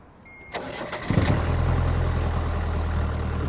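A hotwired car engine cranks briefly and catches, then settles into a loud, steady low idle that runs alone to the end.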